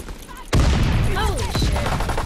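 A sudden loud explosion bursts out amid gunfire in Call of Duty WWII, followed by scattered shots and whistling battle sounds.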